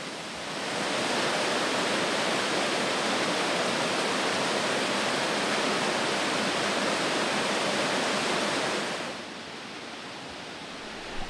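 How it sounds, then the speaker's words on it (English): Waterfalls beside old mills in a village roar loudly and continuously, a dense close rush of falling water that fades in and later drops to a softer, steady wash. "You stand nearly on top and beside the waterfalls"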